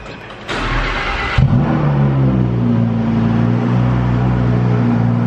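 A car engine cranks and catches at close range, then revs up and settles into a steady, loud running drone.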